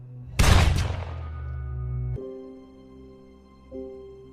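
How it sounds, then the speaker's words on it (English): A loud gunshot blast from a movie shootout, sharp and booming, with a reverberant tail. Sustained low tones and music-like drones follow, and a second, softer swell comes near the end. "Left with no choice, Frank delivered a precise shot, taking Lazarus down."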